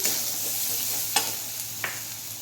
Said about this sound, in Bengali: এবার সব কিছু আবার ভালো করে ভেজে নিচ্ছি।